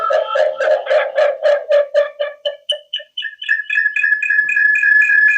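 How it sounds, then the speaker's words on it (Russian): A phone rings with an electronic chirping tone as a Chinese Marlboze PG-105 GSM/WiFi alarm system calls it: a fast run of warbling pulses that then settles into a sustained steady tone, loud and close. "Сигнализация передает на телефон."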